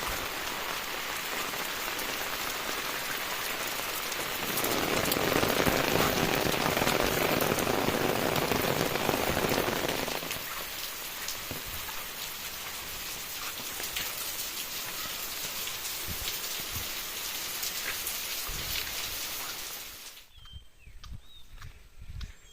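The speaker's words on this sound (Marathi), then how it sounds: "पाऊस पडतोय" Heavy rain pours down in a Konkan village for about twenty seconds, a dense hiss with a heavier burst in the middle, then cuts off abruptly near the end.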